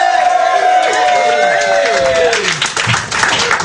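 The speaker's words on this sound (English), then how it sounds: "that was a bit of undeserved applause there" Comedy night audience applauding and cheering for a performer, a dense wash of clapping from a crowd that starts under a lingering tone and swells toward the end.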